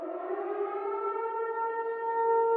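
Wailing civil-defense-style siren in a Silent Hill styled ad, a steady sustained tone with harmonic overtones slowly rising and swelling in loudness, heard alone without talk.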